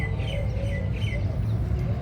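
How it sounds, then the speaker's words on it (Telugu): Birds chirp in large trees around an old restaurant and house in Agra, short repeated calls over a steady low outdoor rumble, moderately close with no talking. "ఇదిగోండి పక్షుల కిలకిలలు,"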